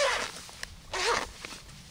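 A zipper on a pocket sewn onto a portable solar panel is pulled open, giving two short close raspy pulls with a pause between them and a faint click.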